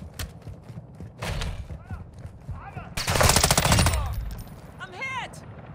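Bursts of rapid automatic gunfire crackle loudly, with a dense volley in the middle, alongside scattered game sound effects and brief whistling tones, in Call of Duty: Modern Warfare II Warzone 2.0 DMZ.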